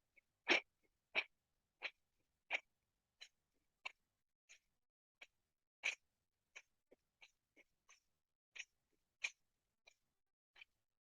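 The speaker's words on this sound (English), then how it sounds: "we're just going to try to do between 10 and 20 breath of fire here" Breath of fire in a yoga session: sharp, rhythmic nasal exhales pulse roughly every half second, close and crisp against near silence, gradually softening in strength.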